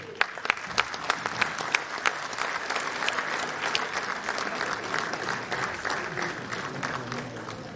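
Audience applause at an inauguration of power projects, with a burst of sharp individual claps at first that settles into sustained, moderately loud clapping from a seated crowd.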